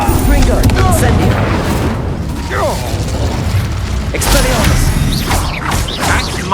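A fire spell cast during a magic duel in the Hogwarts Legacy video game: a dense, loud blend of whooshing bursts, booming impacts and mechanical clatter in a busy combat mix, with voices mixed in.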